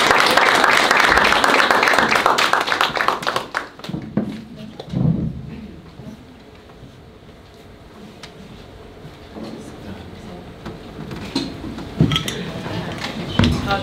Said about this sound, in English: And let's also clap for our participants